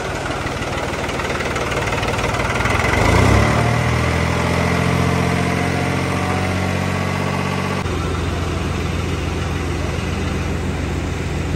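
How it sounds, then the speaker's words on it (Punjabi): A tractor engine idles near a potato cold-storage warehouse, a steady low, rumbling drone that swells briefly early on and then settles into an even chugging hum, with faint voices underneath. "ਆਪਣਾ ਟਰੈਕਟਰ ਬੰਦ ਕਰ ਦਈਏ"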